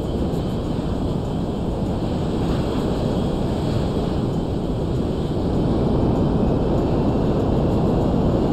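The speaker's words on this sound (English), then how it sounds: "this is definitely a Russian plane" A large Russian cargo plane in the video game GTA 5 flies with a steady, loud, broadband roar of engine and wind noise. The roar holds even throughout and swells slightly toward the end, with no voices.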